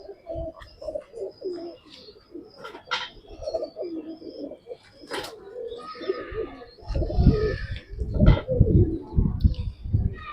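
Pigeons cooing nearby in rolling, throaty bursts that grow louder and fuller toward the end, mixed with chirps and light rustling; a voice talks briefly in the background.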